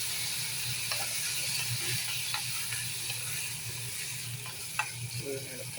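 Boiled koorka (Chinese potato) and chilli fry in hot oil: a steady, close sizzle with faint scraping and stirring clicks and no voices.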